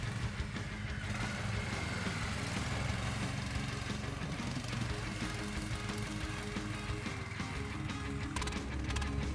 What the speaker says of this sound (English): One more sled Omega with 20 HP engine.